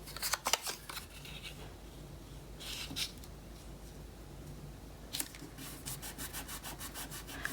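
Glued paper is pressed and rubbed onto a handmade bookmark, close and quiet. Brushing, scraping strokes come in bursts, then a quicker run of rhythmic rubs.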